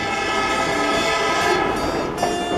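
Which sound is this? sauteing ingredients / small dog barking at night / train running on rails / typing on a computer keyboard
train running on rails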